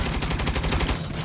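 A turret machine gun roars in Saints Row, a dense, continuous burst of rapid loud firing with no pauses across the whole moment.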